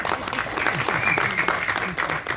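An audience at a movie audio launch event claps in a short, lively burst of applause that stays fairly steady throughout.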